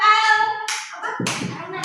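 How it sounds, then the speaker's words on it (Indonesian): A voice speaks briefly, then a burst of clapping from several people breaks out, scattered and lively, close by. "Tepuk tangan untuk grup"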